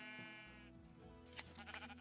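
Sheep bleating in the video game Minecraft, a short wavering bleat over a steady low background hum, followed by a brief sharp click and a few softer scattered sounds.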